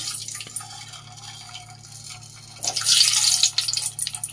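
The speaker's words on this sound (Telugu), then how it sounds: "అలా ఆయిల్ అయితే వేడెక్కింది ఎగ్స్ అయితే వేసుకుందాము" Boiled eggs dropped into hot oil in a home kitchen pan while cooking an egg and drumstick curry, giving a steady sizzle that swells into a louder, crackling hiss around the midpoint.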